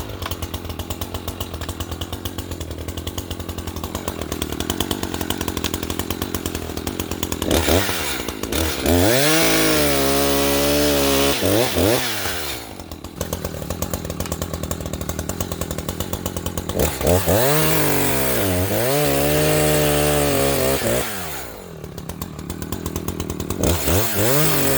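Freshly sharpened chainsaw chain biting into soft pine, loud and close, with the engine revving up into two long bogging cuts between stretches of high idle and no talking.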